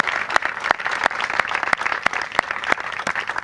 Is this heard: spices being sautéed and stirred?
no